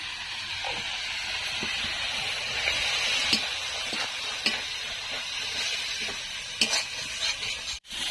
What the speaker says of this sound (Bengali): মশলাটা আমার কষানো হয়ে গেছে, দেখুন তেল ছেড়ে দিয়েছে মশলা থেকে।